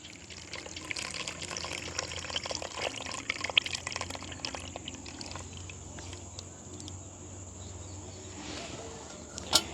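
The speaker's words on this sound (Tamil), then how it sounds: "நாங்கள் தண்ணி எந்த அளவுக்கு தேவையோ அந்த அளவுக்கு நாங்கள் தண்ணி கலந்து விடுவோம்" Water being added to a pot of rasam during village cooking, a steady liquid pouring and dripping sound that runs throughout at moderate level, with no talking.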